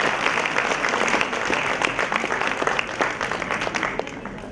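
Applause at a university induction programme in Rohtak, welcoming the college registrar: dense, steady clapping from a large audience, sustained loudly across the whole stretch with crisp individual claps standing out.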